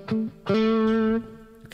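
Electric guitar notes on a Boss Katana amp with the compressor switched off: a short plucked note, then a louder sustained note that rings for under a second and stops, played alone without talking.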